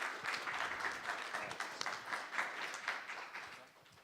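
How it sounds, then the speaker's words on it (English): Audience applause in a conference room as the next speaker is introduced, a steady patter of many hands clapping at moderate loudness that tapers off toward the end. "So let's have a round of applause for our next speaker, Fatima Taj."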